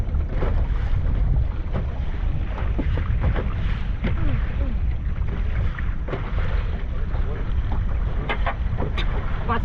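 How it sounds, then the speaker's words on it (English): Outdoor wind gusting against the microphone on a boat working blue crabs on a cold, windy winter day, a continuous low roar throughout, with people talking intermittently over the rush. "This wind's on, I can't have it."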